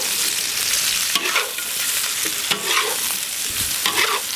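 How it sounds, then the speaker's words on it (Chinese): Scallion, star anise, cinnamon and bay leaves stir-fry in hot oil for braised pork belly, giving a continuous close sizzle broken by rhythmic scraping strokes of a spatula about once a second. "把这葱和八角、桂皮、香叶下进去，我们给它炒一下，炒香。"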